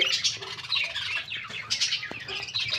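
Budgerigars in a breeding cage chirp and tweet in quick, bright, overlapping bursts, close and lively, with small squawks mixed in and no talking.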